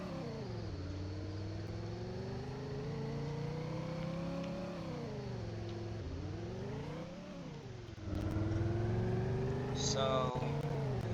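Engine of a 1957 Chevlon Joile-Mode car in a video game, rising in pitch as it accelerates, dipping through gear shifts, then climbing again and growing louder near the end, under a speaking voice.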